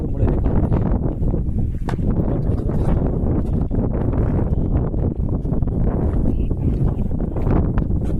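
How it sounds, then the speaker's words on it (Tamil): Wind gusting against the microphone on a trek up Z Point peak near Hebbe Falls in Chikkamagaluru, Karnataka: a loud, continuous buffeting rumble with rustling bursts throughout. "காற்று இப்படி அடிக்குது"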